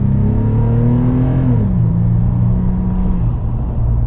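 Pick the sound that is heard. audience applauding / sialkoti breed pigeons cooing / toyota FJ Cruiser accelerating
toyota FJ Cruiser accelerating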